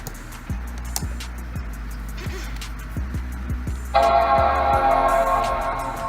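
A 2008 Apple MacBook with a 2 GHz Intel Core 2 Duo and a replacement hard drive powering on: a few soft regular clicks, then the loud startup chime rings out and holds.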